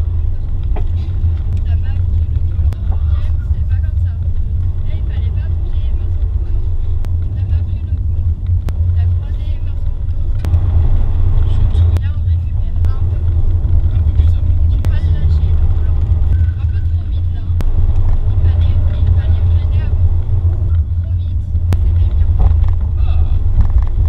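A Porsche laps a small circuit at a children's driving school. Its engine gives a deep, steady, close rumble that swells and eases through the laps, with faint talk in places.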